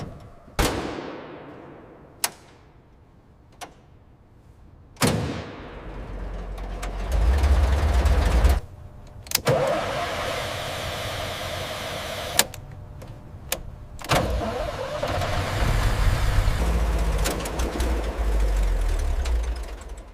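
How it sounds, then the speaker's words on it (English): A heavy tank engine cranks and catches after several sharp clicks and clunks, then settles into a deep, loud rumbling idle with mechanical knocks over it. "Checklist complete, prepare for engine start."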